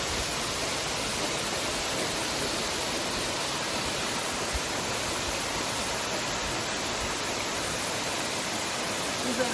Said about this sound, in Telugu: ఇదే రావణ వాటర్ ఫాల్స్